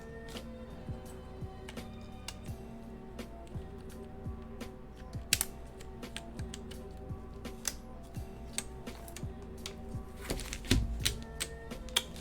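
Typing on a freshly built KIRA EXS mechanical keyboard with EPBT keycaps, testing stabilizers: a close run of clacky keystrokes, uneven in rhythm, with a few heavier thocks, likely spacebar or larger keys.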